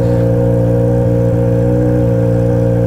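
Loud motorcycle exhaust holding a steady rev, a dense, buzzing engine drone close up with strong low harmonics and slight pitch wobble throughout, no voices.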